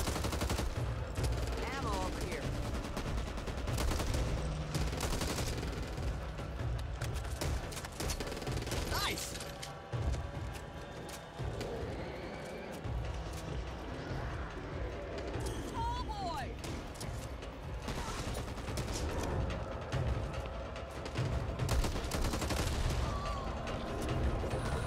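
Gunfire in the zombie shooter game Back 4 Blood, Act 1 Mission 4: rapid automatic bursts and single shots crack continuously over a dense, loud din of game effects for the whole stretch.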